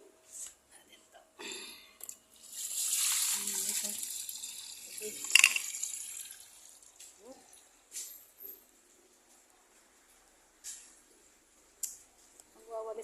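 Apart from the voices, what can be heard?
washing dishes under running tap water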